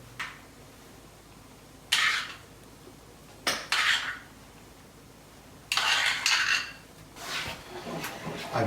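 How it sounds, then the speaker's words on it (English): A spoon stirs fresh cream and sour cream in a pan, coming as several close bursts of scraping and clinking against the metal, separated by quieter pauses, with no voices. "I will stir my pan with a spoon so the sour cream will become incorporated to my fresh cream"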